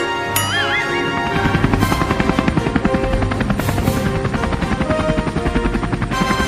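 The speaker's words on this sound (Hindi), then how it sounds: "अरे हमारे गांव में हेलीकॉप्टर" A cartoon helicopter over a village is loud and near, its rotor beating in a fast, steady thump over a whining engine.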